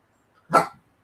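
A dog gives one short, loud bark close by, with silence before and after.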